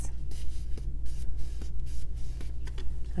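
Paper envelope for a junk journal being folded and creased by hand, a close, dry rustle with several brief scraping strokes over a steady low hum from a nearby heater.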